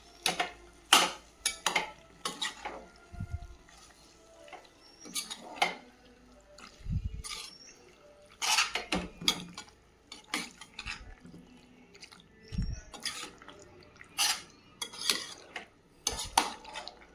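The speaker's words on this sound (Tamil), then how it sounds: "பாஸ்தாவை எல்லாத்தையும் எல்லா இதோடையும் மிக்ஸ் பண்ணிடுங்க" White pasta being stirred and tossed in a pan: irregular metallic clanks and scrapes of a utensil against the pan, in bursts with short pauses, close and clear, with no voices.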